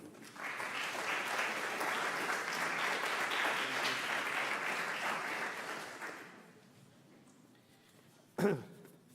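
Lecture audience applauding to welcome a university president, a full room clapping steadily for about six seconds before fading out, followed by a short sharp sound.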